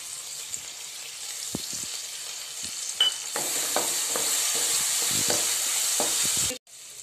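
Soaked moong dal sizzles in hot oil with asafoetida and turmeric in a pan, and a spoon stirs it in repeated scraping strokes over a steady, close frying hiss.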